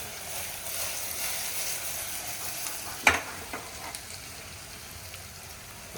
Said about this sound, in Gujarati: તેલની અંદર તુરિયા નાખી દીધા છે